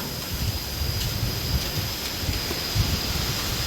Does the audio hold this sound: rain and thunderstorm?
yes